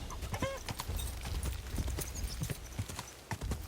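Rhythmic clip-clop of horse hooves at a steady pace in Kingdom Come: Deliverance 2, fairly close, with a brief whinny early on and no talk.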